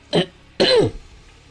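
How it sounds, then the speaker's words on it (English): Someone clears their throat twice up close, a short rasp followed by a longer, rougher throaty sound, then quiet. "I just need to clear my throat for a moment"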